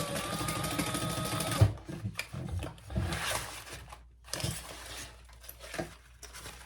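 Sewing machine stitching a seam closed on a crossbody bag, running in short bursts with brief pauses between, close up and fairly loud.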